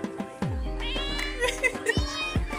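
A cat meows several times in short, rising and falling cries close by, over a low steady hum, with human voices and movement noises around it.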